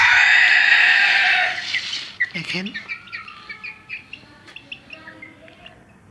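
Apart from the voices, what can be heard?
two naked-neck chicken chicks chirping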